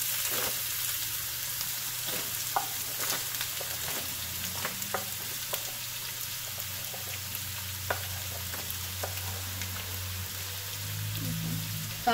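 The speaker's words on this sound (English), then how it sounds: "Once the oil is hot, add the vegetables. First the beans and carrots." Beans and carrots fry in hot oil for egg fried rice, giving a steady, soft sizzle throughout with scattered faint pops and crackles, no talking.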